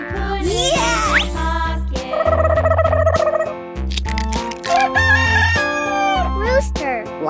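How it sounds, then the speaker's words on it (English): A cartoon rooster crows in a 3D animal slide video game, set against bright, busy game music with chiming tones. "Rooster."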